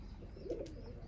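A single domestic pigeon from a keeper's flock gives one soft, brief coo, faint and close, against a quiet background.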